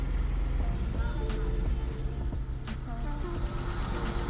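A Buick LeSabre, under restoration and running on old gas, idles with a low, steady engine rumble and a few faint clicks and knocks on top.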